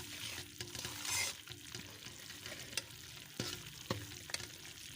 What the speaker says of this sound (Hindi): सूजी की भुनाई होगी माशाल्लाह।